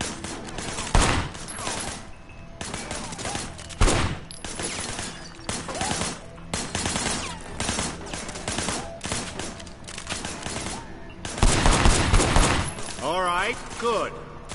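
Bursts of gunfire in the Sleeping Dogs video game, loud shots and rapid volleys recurring across the scene, with speech weaving between them.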